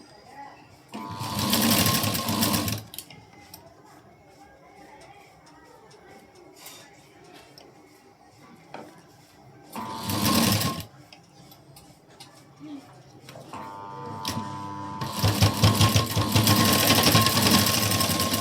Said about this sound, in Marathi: फक्त शिलाई देताना असा फिरवायचा